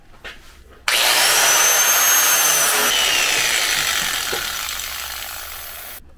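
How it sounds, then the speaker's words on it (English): An angle grinder bevels the metal edges of the skis on an off-road logging trailer, starting abruptly with a loud steady whine and grinding that fades slightly before cutting off. "let me plug the grinder in, put you guys on a stand, and we'll try and clean that up a bit"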